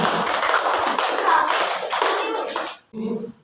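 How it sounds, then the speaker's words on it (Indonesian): Classroom applause for a student group, with loud, close clapping from many hands running steadily for about three seconds, then cutting off as a voice starts speaking. "Kita kasih tepuk tangan dulu untuk kelompok 1."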